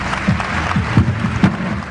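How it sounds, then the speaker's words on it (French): Audience clapping at an award ceremony for prize winners, a loud steady patter with a few stronger claps and faint voices beneath. "On peut les applaudir une dernière fois très fort."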